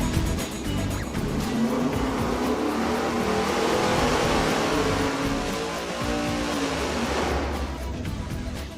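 Engine running hard on a dynamometer through a Hooker maximum flow muffler, a loud, steady exhaust roar held for about eight seconds with no talking.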